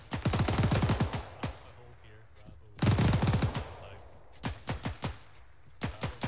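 World War II era machine-gun fire in an ArmA 3 battle: two long rapid bursts, close and heavy, followed by scattered single shots and short volleys, with a voice briefly in between.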